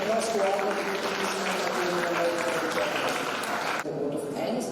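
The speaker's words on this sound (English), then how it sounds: "Please give a big round of applause to all the people who" Audience applause at the HPSR Youngpreneurs 2022 school event: a steady, dense wash of clapping with voices mixed in, easing off briefly near the end.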